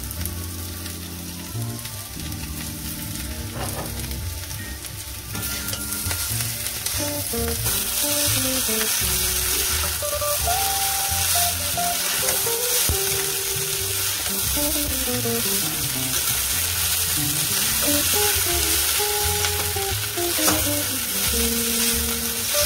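Maggi noodles and masala fry in a pan, a loud, continuous sizzle broken by repeated scraping stirs, with a melodic tune playing in the background.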